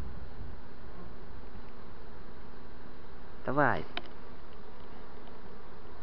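Honey bees buzz around a queen cage while a captured swarm is handled, a soft steady hum with one brief, louder rising buzz midway and a short spoken word.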